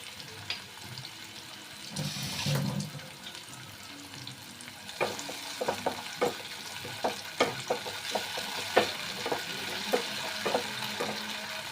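Tomatoes fry in a pan with Schezwan chutney, a soft steady sizzle under a string of spoon taps and stirring scrapes that grow more frequent toward the end.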